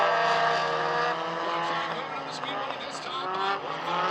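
Black number 56 four-cylinder race car driven around a speedway, its engine droning steadily and loudly throughout with a sustained rising and falling roar, while a commentator talks over it.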